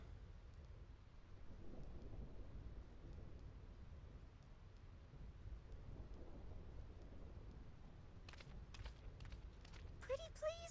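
A heavy rainstorm rumbles with low thunder on the Thunder Plains in Final Fantasy X, a continuous dull roar of rain and distant booms, followed near the end by a few short crackling bursts.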